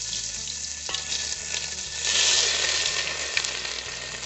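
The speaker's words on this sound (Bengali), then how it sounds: "আর দিয়ে দিচ্ছি সামান্য একটু সাদা জিরে। দিয়ে দিচ্ছি গ্রেট করে রাখা আদা।" White cumin seeds and grated ginger fry in hot oil for a vegetable khichuri, giving a close, steady sizzling hiss that swells louder partway through, with a couple of faint utensil taps and no voices.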